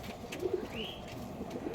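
A pigeon of the Jamuni Panja breed coos softly at close range in a quiet domestic loft, producing a few low, rounded notes over faint background hiss.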